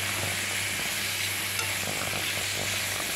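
Fried chicken being stir-fried with green chilies in a pan, a steady loud sizzle with stirring scrapes running throughout, close up and without talking.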